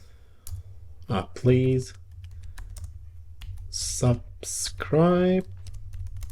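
Keyboard typing and mouse clicks while entering text in Apple Motion 5 tick away softly under a voice, which speaks twice in short phrases over a low steady hum.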